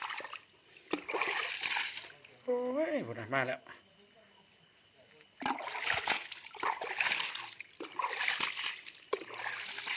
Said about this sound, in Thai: นี่สาดน้ำเลย